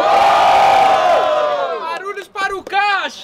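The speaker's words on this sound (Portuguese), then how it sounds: "Barulho pra quem gostou das rimas do Caixa Baixa" Dense crowd at a student rap battle in Guarulhos, São Paulo, roars and cheers loudly, then breaks into rising and falling whoops and shouted voices close by.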